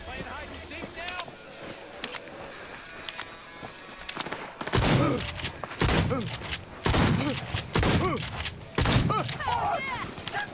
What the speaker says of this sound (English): Shotguns are pretty good when you get up right next to them because it's like a stun weapon